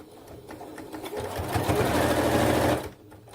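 A sewing machine runs along the edge of a fabric makeup-accessory pouch, revving into a loud, close, continuous whirring burst for over a second before stopping.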